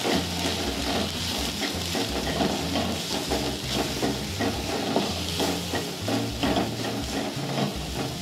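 Spices frying in a pan with Kashmiri red chili powder, turmeric, coriander powder, salt and sugar for paneer lababdar: a dense, continuous loud sizzle and hiss with constant stirring scrapes throughout, no voices.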